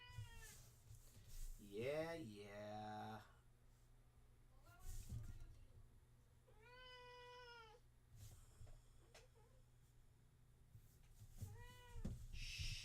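Cats meow repeatedly indoors, with several drawn-out, rising and falling calls spread across the stretch and a person speaking briefly between them.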